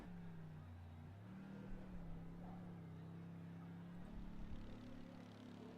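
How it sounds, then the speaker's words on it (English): Race car engine in the iRacing sim during a 12-hour endurance race at Spa, a steady low droning engine note holding fairly constant revs with slight pitch shifts, moderately quiet. "I can hear you revving it even from yeah"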